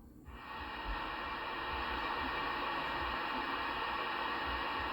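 A CB radio at a home setup switches on and settles into a steady, even hiss of static that holds at a constant level with no voices.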